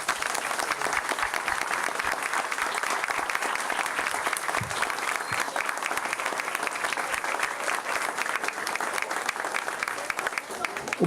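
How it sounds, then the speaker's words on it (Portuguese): Applause from the audience at a book launch: a dense, steady round of clapping from a fairly small crowd, sustained for about eleven seconds with no break. "Obrigado pelas palmas, pessoal."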